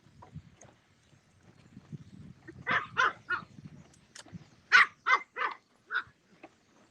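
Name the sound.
dog barking excitedly at another dog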